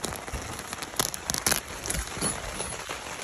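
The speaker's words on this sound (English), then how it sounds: "we continued towards the campsite where it started raining" Rain falls at a campsite in Cornwall, a soft, close patter of drops striking a surface with irregular crackling taps and no voices.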